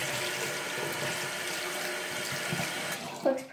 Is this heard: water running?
yes